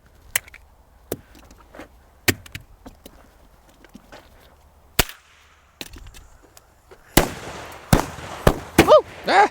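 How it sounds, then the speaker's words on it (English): Gunshots are fired at a mounted Rovyvon GL4 Pro flashlight: several sharp, loud cracks spaced irregularly, then a tighter cluster of shots near the end. Faint background noise fills the gaps between them. "we're gonna fire 5 more rounds."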